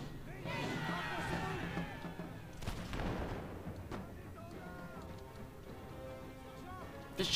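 Musket volleys and artillery fire from a Napoleonic-era battle in Napoleon: Total War, heard as bursts and booms under a continuous din of battlefield noise, with a sharp louder crack at the very end and voices mixed in.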